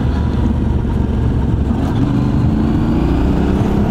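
A Yamaha Tenere 700 (XTZ690) motorcycle engine pulls under acceleration in third gear, a loud, close, steady drone with a slowly rising tone, heard from the rider's seat on or off road without talk.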